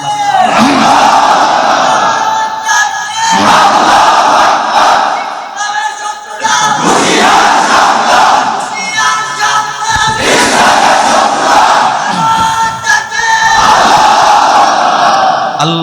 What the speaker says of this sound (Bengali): যারা এই চিল্লা তোমার নারে তাকবীরের স্লোগান দিয়েছে